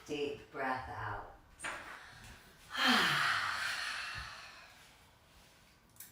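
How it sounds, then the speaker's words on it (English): A long, deep exhale during a yin yoga session, a breathy rush starting near the middle and fading slowly to quiet, with a few softer breaths and faint movement noises before it. "Last full deep breath in, filling the whole body up. And last full deep breath out."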